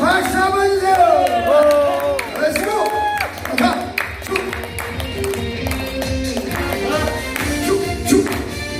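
An audience claps hands in a steady rhythm during a live Korean trot song performance. The sharp, repeated claps sit under the singer's voice and the band.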